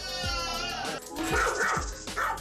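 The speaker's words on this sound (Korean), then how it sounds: "아이가 다가오기만 하면 쫓아낼 듯이 짖어대는" A pet dog barks aggressively at a young child, sharp repeated barks and yips close by with a whiny edge, loud and insistent over a short stretch.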